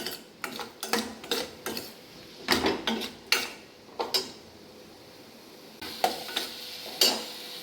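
Onion and tomato cooking in a pan, stirred with a metal spoon that scrapes and clinks in irregular bursts over a low sizzle, with quieter gaps between strokes.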